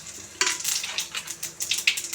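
Cumin seeds hit hot mustard-style oil left over from frying rohu fish, setting off a sudden loud sizzle that crackles in uneven bursts, close and without voices.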